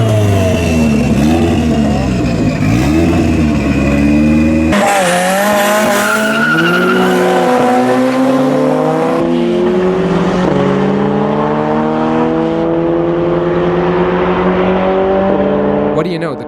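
A Golf 6 GTI races a heavily modified Toyota Corolla, engines revving loudly with rising and falling pitch through gear changes, tires squealing, sustained and close for the whole stretch.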